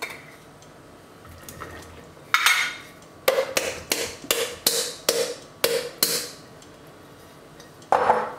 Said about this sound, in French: Et on va rajouter maintenant des châtaignes